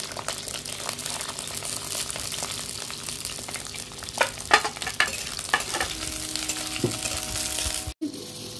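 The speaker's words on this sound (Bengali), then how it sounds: "ক্যাপসিকাম তেলে দিয়ে দেবো। পেঁয়াজগুলোও দিয়ে দেবো।" Square-cut capsicum and onion fry in hot oil, with a continuous sizzle broken by scraping stirs and a few clinks in the middle, then a brief cut near the end before the frying resumes.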